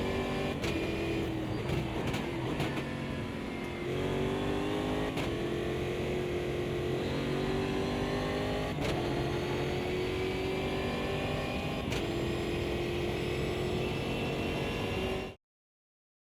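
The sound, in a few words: race car engine in Automobilista 2 video game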